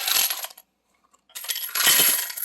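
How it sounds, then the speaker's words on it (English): Quarters from a tabletop arcade gambling machine's drawer pour out in two loud metallic cascades of jingling coins, separated by a brief pause. "I'm going to empty out all these quarters"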